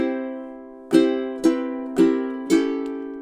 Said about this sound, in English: So 16 in time sounds something like this